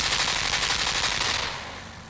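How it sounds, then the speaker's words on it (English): Machine gun fire in the dark, silent-style world of Limbo: a loud, rapid continuous burst of shots that thins out and fades toward the end. "there's a machine gun"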